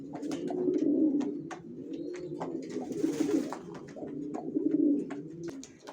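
Racer pigeons coo in a low, continuous rolling murmur that swells and fades, several birds layered close by, with occasional sharp clicks and flutters over the cooing.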